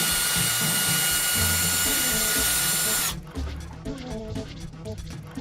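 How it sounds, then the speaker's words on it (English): A loud, steady power drill whines for about three seconds drilling through a power strip, then cuts out, leaving quieter rattling and clattering afterward. "you just drill right through the whole frickin' thing"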